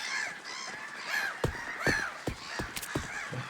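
Crows caw in the Waterpark Simulator video game, a handful of harsh, separate calls spaced irregularly over quiet background ambience.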